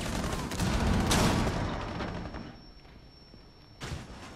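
Gunfire in Rainbow Six during an FBI SWAT match: a dense burst of shots in the first second and a half, then a quieter stretch and one more sharp shot near the end.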